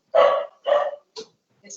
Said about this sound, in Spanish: ahora me cierro la puerta para que no se escuche el perro